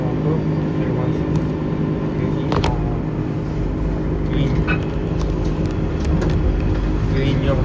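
Orlybus city bus cruising on a motorway toward Orly airport, a steady low engine and road drone filling the cabin with constant tyre rumble, while a voice talks over it.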